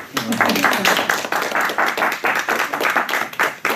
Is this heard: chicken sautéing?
no